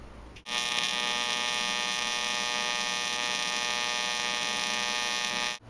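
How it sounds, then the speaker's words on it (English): A welder runs on steel and aluminum in a garage, giving a steady electric buzzing hum that starts abruptly, holds evenly for about five seconds, then cuts off, close and with no voices. "we've done some welding on both steel and aluminum"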